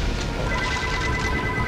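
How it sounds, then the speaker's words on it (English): A telephone rings within the War Thunder tank combat game, a steady electronic trill holding for under two seconds over dense battle noise, with no talking. "Phone call!"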